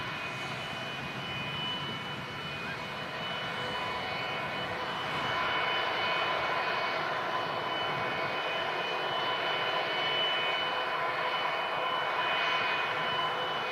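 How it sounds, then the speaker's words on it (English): Jet2 Boeing 757 jet engines at Manchester Airport, a steady loud roar with high whine that swells slightly partway through, heard from nearby without speech. "can't wait to hear the sound of this Jet2 757."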